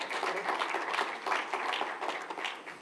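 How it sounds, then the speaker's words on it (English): A conference audience applauds the speakers, a moderately loud, even wash of clapping held for a few seconds without breaks. "let's give them a good round of applause."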